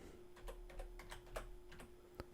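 Typing on a computer keyboard, a quick irregular run of crisp clicking keystrokes close by and alone, with a faint steady hum in the background.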